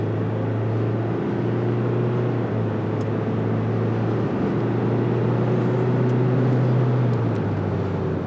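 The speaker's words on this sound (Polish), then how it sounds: "sprawdźmy, jak ten samochód przyspiesza ze startu zatrzymanego" Ford Ranger Wildtrak pickup with the 2.0 BiTurbo diesel pulling away from a standstill, a steady engine drone rising and shifting pitch as it gains speed, heard from inside the cabin with no talking.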